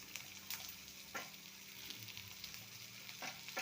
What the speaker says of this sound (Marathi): आता आपल्याला हे 2-3 मिनटं छान परतळून घ्यायचे आहे, कांदा आणि शिमला मिरची साधारण सॉफ्ट होईपर्यंत